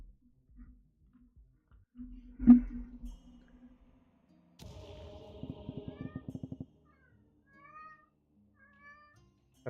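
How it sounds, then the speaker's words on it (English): A house cat meows several times in a row, fairly close and clear, after an earlier single thump; the meows stand alone with no talking over them. "That's my cat."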